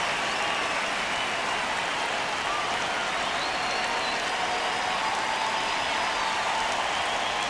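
A steady, loud roar of a baseball crowd in MLB The Show fills the stadium continuously, a dense wash of cheering and clapping with no gaps.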